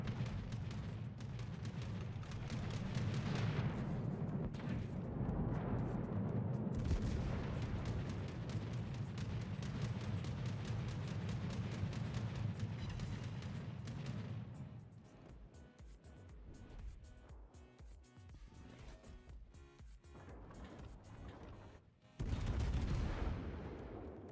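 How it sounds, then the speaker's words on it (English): Naval cruiser guns firing in a World of Warships battle: repeated booming salvos and roaring shell noise fill the mix, loud and dense, easing into quieter rumbling before a final sharp burst. "I should probably be shooting at this Ulan while I can, huh?"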